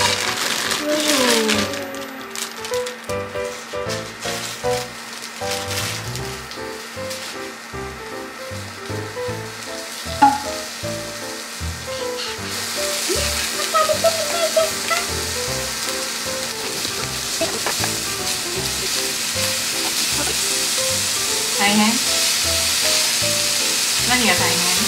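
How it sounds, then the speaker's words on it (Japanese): Vegetables stir-fried for yakisoba in a family kitchen, a steady sizzling hiss that swells louder partway through, with scraping stirs and clatter under frequent conversation between an adult and a child. "じゃあまず野菜を炒めます"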